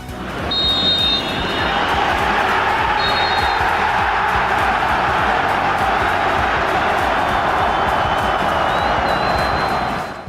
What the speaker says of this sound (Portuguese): Agora ouçam a reação do estádio quando o árbitro anulou um gol do Barcelona nos minutos finais